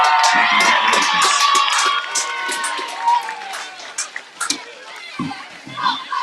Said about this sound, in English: Let's give Coach Bruner a round of applause to say thank you and congratulations.